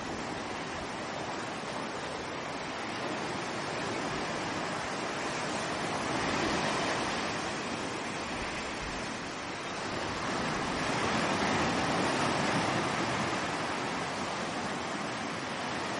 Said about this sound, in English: how much the waves are slamming under the hulls